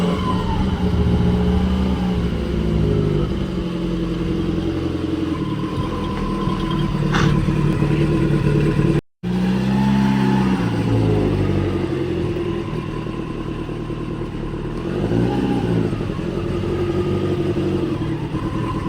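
A modified MK1 Volkswagen Golf fitted with a 1.8T engine moving under its own power, its engine note steady and close with rising and falling revs throughout and a brief cut partway.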